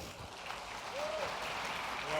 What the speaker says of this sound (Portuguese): Vamos aplaudir o Hugo?